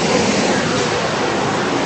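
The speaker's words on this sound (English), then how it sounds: "Pink Creek is where the waterfall is" Waterfall at Pink Creek, a steady broadband rush of falling water that stays loud and constant throughout with no clear breaks or talk.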